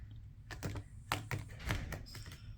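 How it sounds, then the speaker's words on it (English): A deck of playing cards is given a waterfall shuffle, a handful of quick crisp ruffling bursts in close succession, near and fairly quiet. "Let's do a waterfall."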